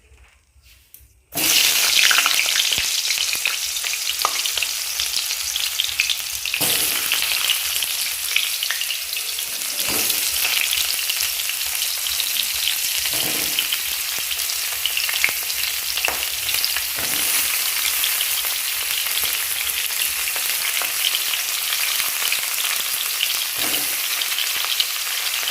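Pointed gourd (potol) pieces frying in hot oil, a loud steady sizzle that starts abruptly and continues throughout, with occasional soft clinks of stirring and no talking.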